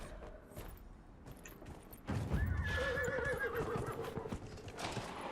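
Horse in Dragon Age Inquisition whinnies loudly with a rising-then-falling neigh, preceded and accompanied by a brief burst of hoof clatter over a low ambient game background, with no talking.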